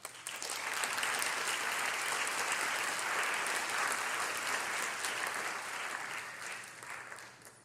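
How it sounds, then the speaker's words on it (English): Sustained audience applause for two debaters at a formal debate on educational equity, a dense, steady wash of many hands clapping that holds for several seconds and tapers near the end. "Let's give these two another round of applause"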